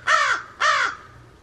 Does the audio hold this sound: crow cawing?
yes